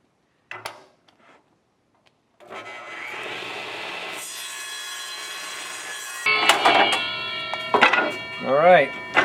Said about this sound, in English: We're just going to cut off now the middle of the board.